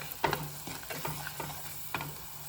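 Chicken with curd being sautéed in a pan, a soft, low sizzle broken by a few scraping stirs of a spoon at irregular intervals, close and fairly quiet, no talking.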